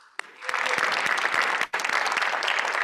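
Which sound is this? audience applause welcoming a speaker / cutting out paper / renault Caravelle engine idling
audience applause welcoming a speaker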